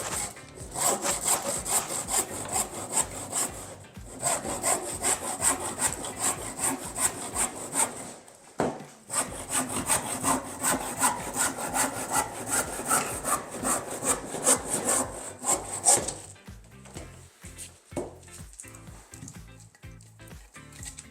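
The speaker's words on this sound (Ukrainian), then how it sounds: "Розпилюємо тепер цю деталь. Дивіться, як файно ріже пилка зразу" A hand saw cuts through resin-hardened restored wood in rapid, rhythmic back-and-forth strokes, close and steady, with a short pause midway before the cutting resumes and tapers off.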